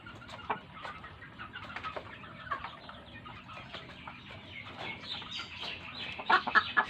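Egyptian Fayoumi chickens cluck in a farm setting, with scattered soft clucks and short calls from several birds, fairly faint and growing busier toward the end.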